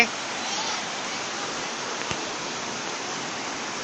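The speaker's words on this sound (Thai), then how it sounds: "นี่เป็นน้ำตกที่สุดยอดมากครับ" Waterfall near Sakon Nakhon, Thailand, pouring down in a steady broadband roar of rushing water, close and continuous throughout with no talk over it.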